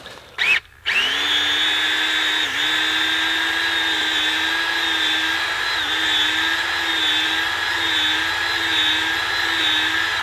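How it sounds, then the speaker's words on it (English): A power drill bores a tap hole into a maple tree, spinning up after two short bursts into a sustained high-pitched whine that holds steady and close for several seconds, dipping slightly under load. "I want to angle the drill so that I'm actually coming at a downward angle so that the tap goes in"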